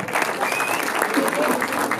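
At an awards ceremony for a 2016 competition, the audience keeps up a brief, steady patter of applause, dense crowd clapping with faint voices mixed in.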